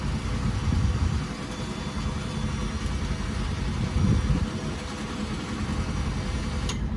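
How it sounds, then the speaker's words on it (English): A Polaris Pro HD 6000 lb winch reels in slowly in low gear, giving a steady, loud, low motor drone with a dense rumble that holds without pause. "We're going to come back in with the winch. As you can see, it's quite a bit slower"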